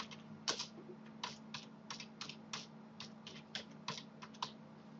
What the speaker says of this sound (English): I'll click on the text tool and I shall type in the name of my, of my blog.